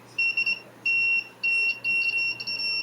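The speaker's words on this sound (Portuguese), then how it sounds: "emitido o bip sonoro" A continuity tester checks the secondary coil leads of a microwave oven's magnetron circuit and gives a steady, high-pitched electronic beep in several broken pulses, close and clear over a faint hum.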